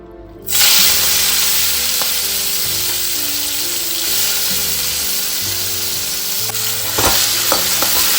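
Fish pieces coated in salt and turmeric frying in hot oil, a loud dense crackling sizzle that starts abruptly and holds steady, close up, with a few light clinks of a utensil and no talk.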